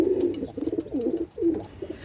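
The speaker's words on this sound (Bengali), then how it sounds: "একজোড়া দেখেন, একজোড়া ডাবলা কবুতর মাশাআল্লাহ" A pair of Pakistani dabla pigeons cooing close by, repeated low throaty coos in a rolling rhythm with brief pauses, no voices over them.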